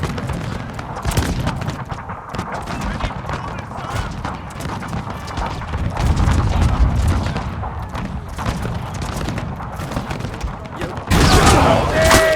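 Musket volleys in a Total War battle set in the Carlist Wars, with crackling rounds of gunfire and booms amid horse hooves and whinnies, a dense battlefield din with shouted voices.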